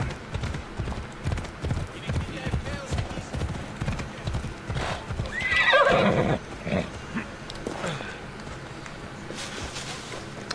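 Hooves clip-clop at a steady trot and a horse whinnies loudly midway, with ambient sound from the game Assassin's Creed Odyssey and some talking over it.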